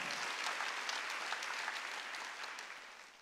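Church congregation at a Wednesday worship service clapping together, a soft, distant wash of hand claps that slowly fades toward the end.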